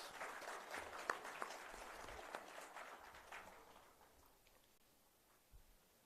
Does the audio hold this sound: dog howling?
no